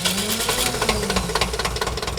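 A restored 1959 Porsche Master tractor engine runs at a steady idle. It puts out a close, rhythmic knocking chug with a light rattle that continues without pause.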